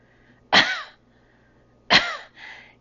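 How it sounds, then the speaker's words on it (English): Two sharp coughs during a pelvic floor yoga exercise, close and clear against a quiet room, the second followed by a softer trailing burst. "I want you to cough 3 times."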